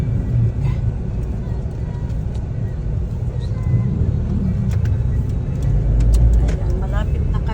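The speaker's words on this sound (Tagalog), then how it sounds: "ayan, super traffic." Cars sit and creep in a heavy Philippine traffic jam, giving a low, steady engine rumble with occasional revs, while people talk nearby.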